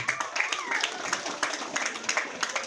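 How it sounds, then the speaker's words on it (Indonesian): Applause from a school audience of parents and guests honouring the teachers, a steady patter of many hands clapping at moderate loudness with faint voices mixed in. "Tepuk tangan dulu Bapak Ibu."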